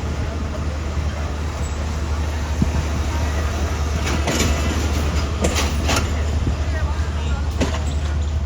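The Bolan Mail passenger train running from Sehwan to Karachi rolls along the rails with a continuous heavy rumble and occasional clacks. Nearby voices murmur faintly underneath.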